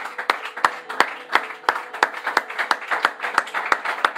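A church congregation claps loudly in a fast, even rhythm, sharp repeated hand claps forming a steady beat of about three per second, with a faint murmur of voices underneath.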